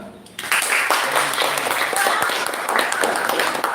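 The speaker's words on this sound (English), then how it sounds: "one round of applause for Professor Ethan" An audience at an academic talk on Islamic education applauds a professor, a full burst of clapping that starts abruptly and holds steady, with a few voices underneath.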